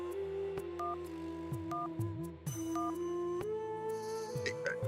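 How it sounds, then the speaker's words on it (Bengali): Telephone dialing on a landline, a series of short beeping key tones repeated in quick succession and followed by a rising tone, heard over a steady background of music. "রিং হচ্ছে"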